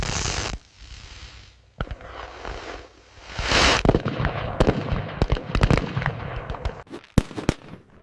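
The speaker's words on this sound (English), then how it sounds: "The popping firecrackers trigger combat reflexes" Firecrackers popping on the Fourth of July: sharp cracks and bursts, a loud hissing blast at the start, then scattered irregular pops growing denser and closer toward the end, no voices.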